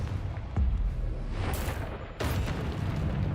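Spell blasts in Hogwarts Legacy combat: a deep booming explosion near the start, then two sharper bursts with bright crackling tails, over a continuous rumbling game backdrop with no talk.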